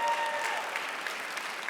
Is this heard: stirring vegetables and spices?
no